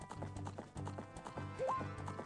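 Horse hooves clip-clop in a steady trotting rhythm in a Zelda video game, with a short rising whinny partway through over game music.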